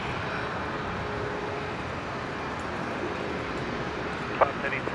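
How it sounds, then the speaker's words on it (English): A QantasLink Embraer airliner starts its takeoff roll on runway 19 left at Brisbane International, a distant, steady engine roar spread broadly and mixed with background noise. "QantasLink 1965 just beginning its takeoff roll down there on 19 left"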